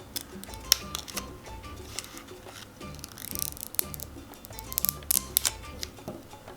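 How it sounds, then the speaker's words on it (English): Quiet, irregular snipping of sharp scissors cutting through fabric for embroidery work, short crisp clicks scattered over several seconds with soft rustling between cuts. "And now I'm going to cut along each side of those lines."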